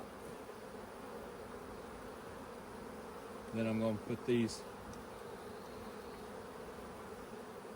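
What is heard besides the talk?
honey bees buzzing while shaken out of hive frames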